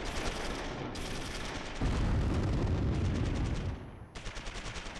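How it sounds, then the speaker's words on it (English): Mortar rounds and gunfire from the Close Combat III war game pound in a dense, continuous barrage of booming blasts and rapid shots, loud and close, with no voices. "Drop some mortars on him. Danger close on Garcia."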